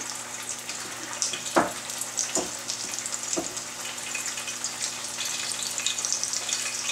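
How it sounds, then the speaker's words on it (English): Sausage wrapped and pinned with a toothpick goes into oil at around 350 degrees and fries with a continuous bright sizzle, close by, marked by a few sharp clicks or taps early on. "then put it in your hot oil"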